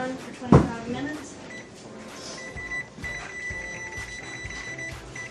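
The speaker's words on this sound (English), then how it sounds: "Now I'm going to put the timer on for 25 minutes." A kitchen oven timer is set for a layered tortilla pie, with a sharp knock or beep early on followed by faint electronic tones and clatter, while a person talks.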